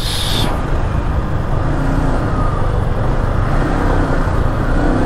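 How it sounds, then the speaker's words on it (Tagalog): Heavy road traffic in a congested street leading to a stoplight, a steady loud rumble of car and truck engines continuing throughout without let-up. "Napaka-traffic guys."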